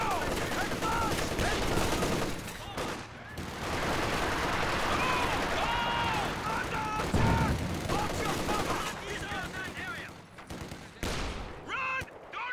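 Infantry gunfire rattles in rapid volleys and bursts amid a loud battle, dense and continuous, with shouted voices cutting through between shots.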